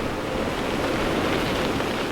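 Steady, broad rushing wind roars without a break, buffeting with a dull, noisy texture throughout.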